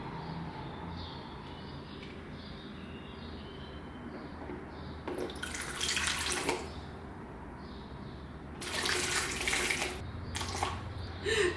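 Water runs from a tap into a container for measuring in a home kitchen, coming in two strong bursts over a steady background hiss.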